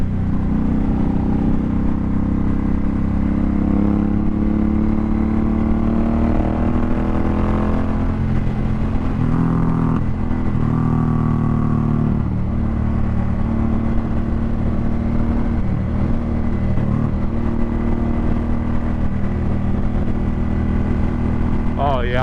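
Suzuki Boulevard M109R cruiser motorcycle riding on a highway, a loud continuous engine drone with wind roar and shifting pitch as it accelerates, someone talking over it.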